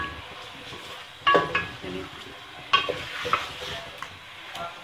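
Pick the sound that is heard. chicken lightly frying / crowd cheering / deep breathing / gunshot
chicken lightly frying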